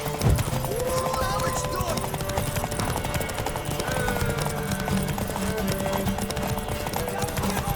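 Horse hooves gallop in The Witcher 3 as a fast, steady clip-clop under game music and character dialogue, with a brief whinny.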